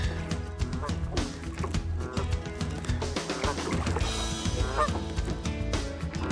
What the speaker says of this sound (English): Geese and ducks.